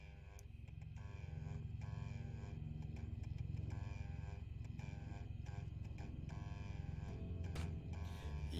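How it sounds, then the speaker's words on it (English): A faulty 3-port mid-position heating valve actuator motor, stuck and struggling to turn, gives a continuous low buzzing drone with a faint rattling pulse, close and fairly quiet. "So that just sounds like the motor is maybe stuck or struggling to turn."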